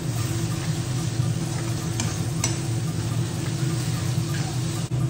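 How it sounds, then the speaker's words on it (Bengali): Ginger garlic paste sizzles steadily in a pan over low flame, a dense continuous frying hiss with a few soft clicks of a spoon stirring, close and loud with no talk. "আদা রসুন পেস্টটা দিয়ে একটু নাড়িয়ে নিই কিছুক্ষণ"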